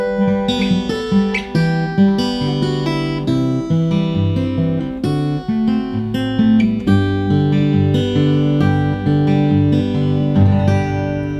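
Fingerstyle acoustic guitar in a steady Travis picking pattern, alternating bass notes under plucked treble strings, played continuously and close.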